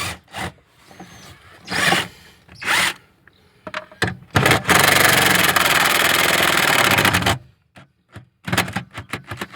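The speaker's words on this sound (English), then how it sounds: "take a drill bit, drill into that spot weld just a little bit" Power drill boring into a spot weld on a Toyota FJ Cruiser, a sustained close, loud grinding whir lasting about three seconds, framed by short bursts and clatter of handling before and after.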